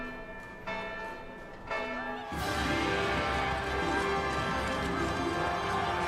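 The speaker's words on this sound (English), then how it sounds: "Oh, and the bells are ringing." Bells ring across the city streets in Final Fantasy XII The Zodiac Age during a procession. Sparse tones at first swell into dense, loud, continuous pealing, with hoof-like clopping mixed underneath.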